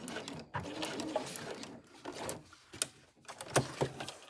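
A sewing machine stitches a quilted pouch in short bursts of rapid whirring and clatter, stopping and starting several times, close and moderately loud with no talking.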